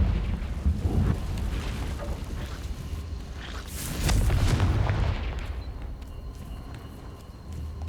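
A Confringo fire spell explodes in the wizarding game Hogwarts Legacy, giving heavy rumbling blasts with a sustained boom swelling midway before tailing off into low roar.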